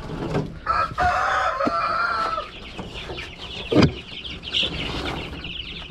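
Dekalb Brown chickens clucking close by, with a rooster crowing partway through and general farmyard bustle around them.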